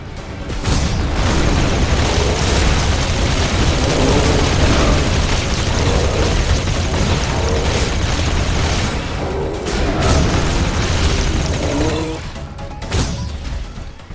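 Deep booming explosions and crashing blasts roll continuously as buildings are destroyed in The Riftbreaker, a loud dense barrage with a few sharper bursts standing out near the end.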